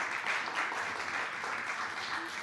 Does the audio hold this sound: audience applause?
yes